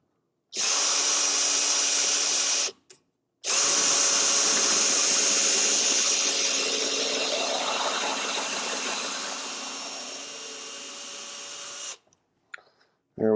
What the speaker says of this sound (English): I drilled these holes just to prevent the wood from splitting when I drill the screws in